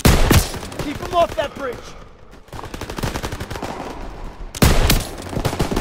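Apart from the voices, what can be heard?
gunfire in the video game Call of Duty WWII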